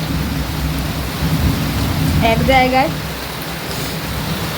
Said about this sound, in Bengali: এখানে আমাদের প্রচুর বৃষ্টি পড়ছে